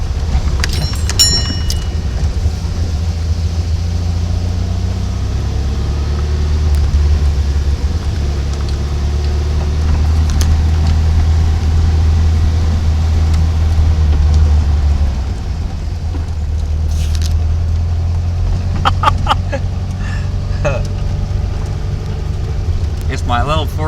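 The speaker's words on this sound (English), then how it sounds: "It's my little four-wheel drive Baja." A four-wheel drive 1969 VW Baja micro camper drives along a trail, its engine a low, steady rumble that stays fairly constant for the whole stretch, with a few faint rattles and bumps.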